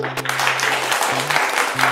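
Brief burst of clapping from a small group at an in-store contest event in a Senco jewellery store in Garia, steady and close, with a low hum running underneath.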